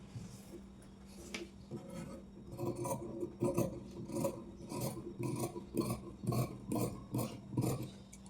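Scissors cut through plain blouse fabric in a series of rhythmic, rasping snips that grow steadier and closer together, with soft cloth handling noise and a faint low hum underneath.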